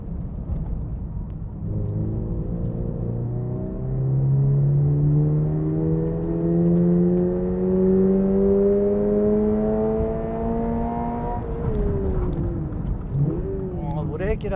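A Toyota GR86 engine with BLITZ intake and exhaust parts revs up steadily, its pitch climbing over several seconds before dropping back, loud and close, with a short burst of revving at the end.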